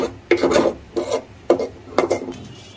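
Roasting coconut and spices scraped and stirred in a pan, four rhythmic rasping strokes about half a second apart, close and dry, with no voices.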